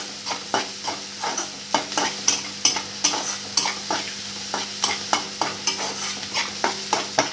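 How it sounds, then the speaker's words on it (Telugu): Onions and green chillies with turmeric and salt are stirred in a hot pan, a spoon scraping in quick repeated strokes over a soft steady sizzle, close and with no voices. "బాగా తిప్పుకోవాలట ఆ పసుపు ఉప్పు ఉల్లిపాయలకి పచ్చిమిరపకాయలకి పట్టేటట్టుగా బాగా తిప్పుకోవాలి"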